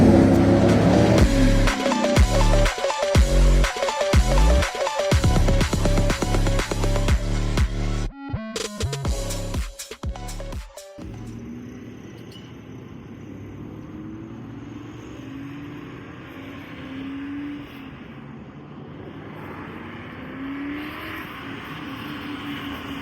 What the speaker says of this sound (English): This is a 1997 Mustang Cobra, and specifically a Procharged one.